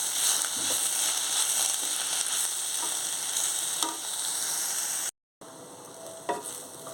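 Ponnaganti greens stir-fried with turmeric cook under a lid in a pan and give a steady, close hiss. Faint clinks come through now and then, there is a brief dropout near the end, and no voices are heard.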